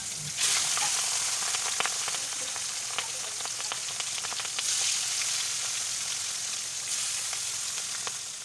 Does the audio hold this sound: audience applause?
no